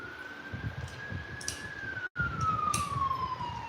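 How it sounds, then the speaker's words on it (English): An ambulance siren wails as it passes, a steady rising-and-falling tone cut by a brief dropout, moderately loud over low road rumble, with no talking. "There's our first ambulance."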